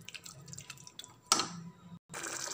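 Water poured into a radish and dried fish masala in a pan, a dripping, splashing pour that swells to a brighter burst partway through, then briefly cuts out before more liquid sounds resume.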